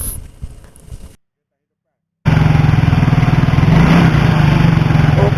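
Yamaha Fino FI scooter engine with a newly replaced fuel injector revving steadily and loudly close by after a brief silent gap, running smoothly without stutter.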